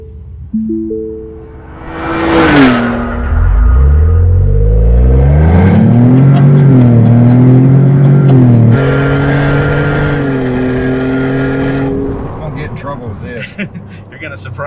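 A Hennessey HPE600 upgraded Lincoln Navigator with turbos accelerates hard, engine note climbing through gears with smooth shifts and a rising turbo whir, loud and close from inside the cabin, with a brief voice near the start.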